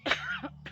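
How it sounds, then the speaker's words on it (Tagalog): A single sharp cough followed by a shorter throat-clearing cough, close and fairly quiet, over a steady low hum. "Ay ubo ako."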